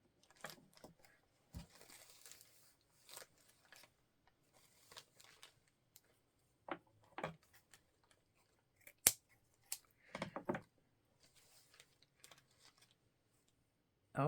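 Scissors snipping through a crochet piece, a string of quiet, scattered crisp cuts and rustles spread irregularly across the span, with light speech here and there.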